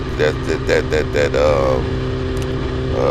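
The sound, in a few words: motorcycle engine, throttle eased with clutch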